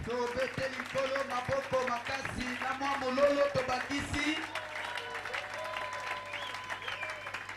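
A church congregation applauds and cheers loudly, a dense wash of clapping mixed with raised voices and singing-like calls that fades into quieter crowd noise.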